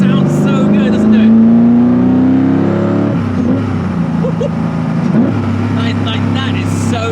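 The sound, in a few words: Koenigsegg CCX manual gearbox downshift, engine revving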